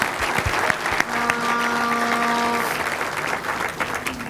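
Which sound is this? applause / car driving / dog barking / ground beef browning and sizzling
applause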